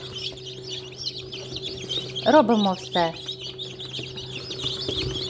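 Newly hatched chicks peep in a poultry incubator as shells are picked away, giving a short burst of high, rising chirps near the middle over a steady hum, with a person speaking nearby.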